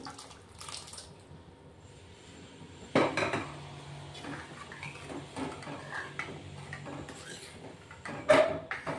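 A glass of hot water is poured into a pressure cooker of dal tadka, with sharp metallic clanks of the cooker and utensils and a brief trickle of liquid between quieter pauses.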